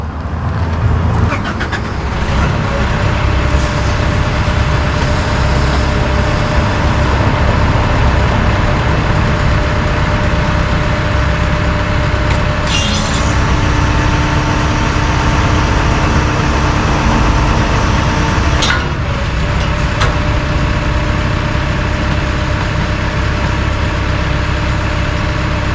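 Massey Ferguson 2850M tractor running steadily with a DM164 disc mower, a constant loud engine drone with a low hum that holds throughout, with brief mechanical clunks partway through and no talking.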